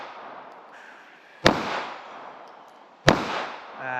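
Two sharp, loud handgun shots fired singly at close range during concealed-carry qualification practice from 3 yards, spaced about a second and a half apart with quiet room tone between them.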